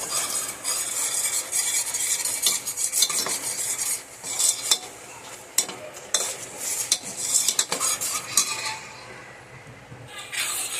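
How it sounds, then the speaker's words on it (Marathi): Gram flour (besan) frying in a pan for Sindhi kadi, stirred with a utensil that scrapes and clinks against the metal over a steady sizzle, close up, with no talking. "बेसन पीठनं हे एकदम लाल छान कलर येऊस्तोवर याला फ्राय करत राहायचं."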